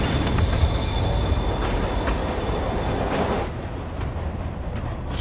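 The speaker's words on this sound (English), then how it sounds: "Train moving." A train rumbles along steadily in the video game Marvel's Spider-Man, with a broad, continuous roar and faint high metallic squeal; the noise drops slightly near the end as it moves off.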